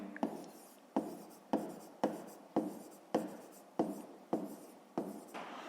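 A pen writes by hand on paper in a quiet room, making a regular series of about ten short scratchy strokes, each starting sharply and fading, close and soft.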